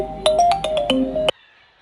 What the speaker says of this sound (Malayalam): അല്ല, നീ എന്താ ഫോൺ എടുക്കാത്തെ?